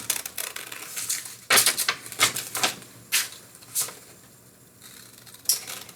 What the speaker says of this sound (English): I'm cutting out the template for the tail fin.